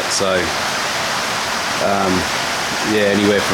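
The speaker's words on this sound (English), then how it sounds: "6 inches to 2 meters of water's going through here" Floodwater pours through a house in a steady, close rushing hiss. Someone talks over it in short bursts.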